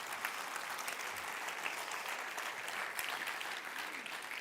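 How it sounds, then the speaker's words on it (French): Sustained congregation applause fills the church, a steady dense wash of many hands clapping at even loudness throughout, with no voices standing out. "Est-ce qu'on peut applaudir à l'avance ce que Dieu va nous faire faire?"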